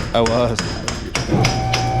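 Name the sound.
hammer hitting Dodge Dakota truck part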